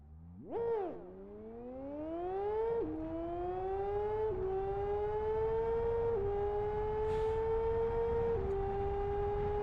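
Supercar engine in the Live For Speed racing game, revving high with rising pitch that drops sharply at each gear shift, then holds a steady loud drone throughout.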